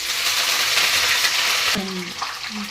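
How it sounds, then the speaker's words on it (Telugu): Green chillies and curry leaves crackle in hot oil for a sustained, loud sizzle, then a brief spatter with a few short tonal squeaks near the end, no voice present. "వేగాలండి బాగా నెక్స్ట్ పచ్చిమిర్చి వేస్తున్నాను తర్వాత కరివేపాకు"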